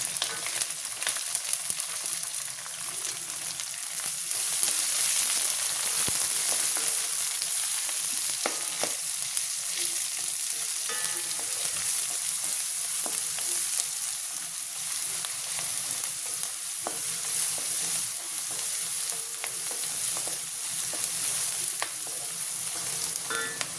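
Garlic paste and onions fry in a pan for mutton curry, a loud, steady, close hiss of sizzling oil carrying on without a break, with an occasional faint stir or scrape and no talking.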